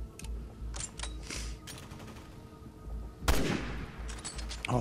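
Gunfire in the video game Resident Evil 6: a handful of sharp, loud shots spread across a few seconds, with one heavier blast near the end and game noise beneath.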